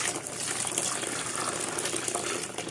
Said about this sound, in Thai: ผมจะเติมน้ำหมัก